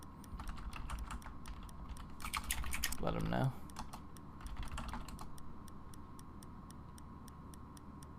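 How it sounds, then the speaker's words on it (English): Sharp, rapid computer mouse clicks tick steadily through a game livestream, close and fairly quiet over a constant electronic hum, with a brief spoken phrase partway through. "Somebody's clicking. Just getting antsy with that mouse."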